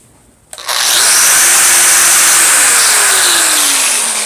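A 5-inch Bosch angle grinder switches on and whines at top speed, a loud, steady high-pitched roar that holds without letup.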